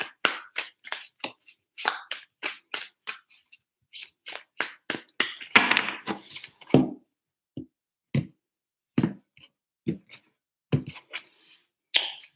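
Tarot cards are shuffled in quick riffling bursts, a rapid series of crisp snaps and flutters with brief pauses between, close by and with no talking.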